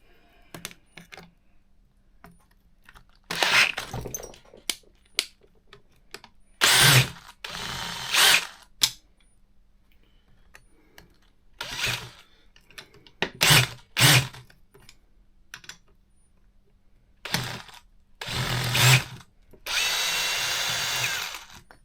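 A power drill spins screws in and out of an HPI Baja 5T RC car during differential and drive cup repair, loud whirring bursts of a few seconds each separated by pauses, with small clicks and part handling in between.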